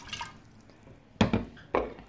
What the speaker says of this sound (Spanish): Vamos a comenzar echando la mitad del agua al caldero.